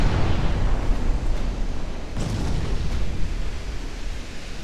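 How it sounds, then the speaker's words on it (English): A torpedo detonation in the naval warfare game Ultimate Admiral Dreadnought comes as a deep, rumbling roar of broadband noise that holds steady and fairly loud, with faint pops breaking through. "Torpedo detonation."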